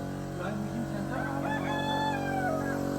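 A rooster crows once in a drawn-out rising and falling call at moderate distance, over a steady background hum, outdoors near a hill village.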